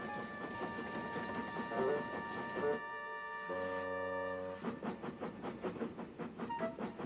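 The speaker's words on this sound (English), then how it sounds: "Oliver pulled some loaded cars to a siding and pushed the empties to the chute" A steam engine in the Trainz railway game hauls loaded wagons with rhythmic chuffing and rail clatter, a steady whistle-like tone sounding midway, fairly quiet overall.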